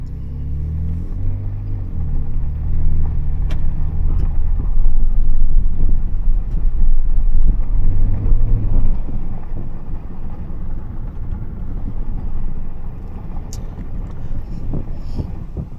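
A 2024 Ford Ranger Raptor's 3.0L V6 engine rumbles steadily while driving on gravel in sport mode, with wind buffeting and crunching road noise.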